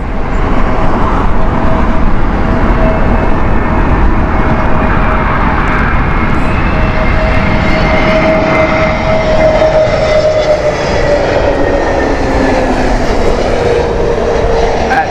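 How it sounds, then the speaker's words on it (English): A TAP Air Portugal airliner from Lisbon approaches Heathrow in heavy winds, its loud, close engine roar and shifting whine sustained for the whole stretch, with no talk over it. "Lisbon flight here from TAP Air Portugal."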